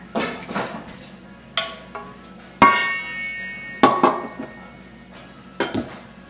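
Cornbread batter of dry ingredients, eggs, sweet corn, butter and half and half being mixed in a bowl, heard as a series of sharp clinks and scrapes of a utensil against the dish, close and intermittent.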